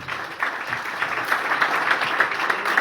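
An audience at a business training program claps steadily in a dense, continuous wash of applause, loud and close throughout.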